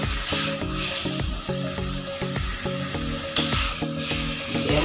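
Black pomfret frying in a pan and being flipped, with a continuous sizzle under a repeating musical pattern and occasional scraping movement.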